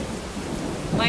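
Thunder rumbles with steady rain in AI: The Somnium Files, a continuous low roar of downpour that swells slightly near the end as a sharper crack of thunder rises over it.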